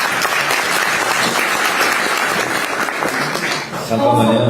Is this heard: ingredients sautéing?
no